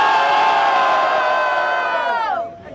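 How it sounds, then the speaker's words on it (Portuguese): A large crowd at a freestyle rap battle final in Barueri roars and cheers loudly and continuously, with whoops and shouts blending into a dense wall of sound that fades out at the end. "Barulho para cima do Nego Drama"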